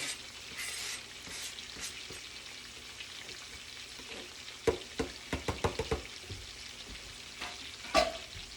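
Fresh parsley stirred into a sizzling pan for Italian keto meatballs with mozzarella, steady frying hiss with a run of close, quick utensil scrapes and taps midway and one sharper clack near the end, no voices.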